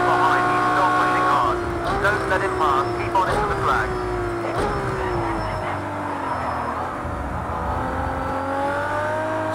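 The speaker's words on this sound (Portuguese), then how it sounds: "Som lindo de reduzida, filho." A Ferrari LaFerrari in Project CARS 2 at Barcelona revs and steps down through gears. The engine note is loud and continuous, with repeated pitch drops from downshifts and a voice talking over it.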